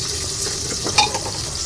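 Whole cinnamon, cardamom, black pepper and cloves frying in hot oil for a meat dish, a steady close sizzle with a few soft stirring clinks and a brief louder crackle.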